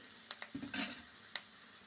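Tomatoes dropped into a pan of frying onions for an aloo palli curry, heard as a brief burst of sizzle with a few soft spoon taps, quiet and close, no talk.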